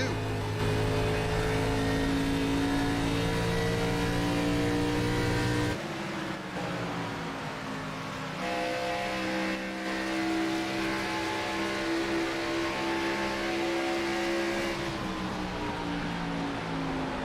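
Stock cars race around Pocono Raceway in an NSRL Grand National Series event, their engines a steady, loud, droning roar that shifts pitch as the cars pass, with a commentator talking over it.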